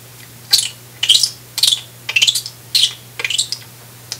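A beatboxer's mouth imitates Beatfox's special sound: six sharp, bright bursts roughly every half second, each a quick fluttering click-roll with a rising sweep, close and fairly loud, with no talking.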